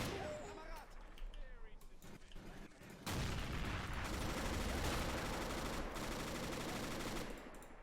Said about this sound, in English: Man, the machine guns.